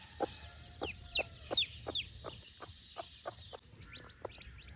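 Tiny cochin hen chicks cheeping loudly in high, rapid peeps over a clucking hen, a busy, close cluster of calls in a quiet yard.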